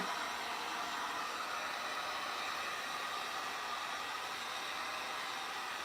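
A hair dryer blows over freshly painted furniture in a steady, close, unbroken whoosh of airflow that holds the same loudness throughout, with no talk.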